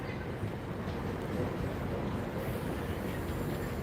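A train pulls away from Gloucester station with a steady low rumble and broad rushing noise, moderately loud and continuous throughout, with no voices over it.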